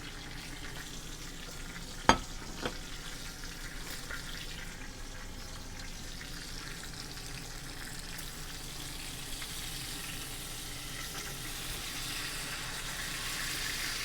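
A prime ribeye steak sears and is basted in a stainless steel pan, giving a steady close sizzle and frying hiss throughout, with a couple of sharp spatters or utensil clicks near the start.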